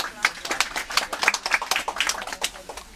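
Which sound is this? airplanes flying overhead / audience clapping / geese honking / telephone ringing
audience clapping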